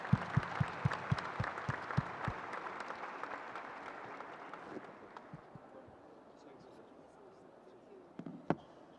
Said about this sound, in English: asking for a show of applause for our fantastic panel and for all the contributions for the floor